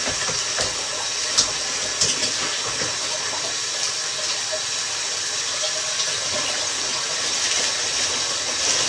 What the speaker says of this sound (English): I'm just going to rinse off some spinach for us.